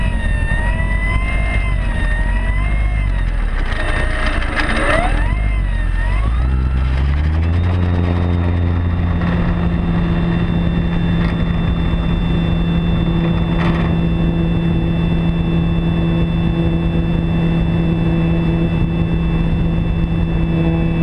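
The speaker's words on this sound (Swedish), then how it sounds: "Du flyger bra med D-planen." Radio-controlled model airplane flying over a lake, its small engine whining steadily with pitch sweeps as it passes, then settling into a sustained drone that carries on loudly to the end.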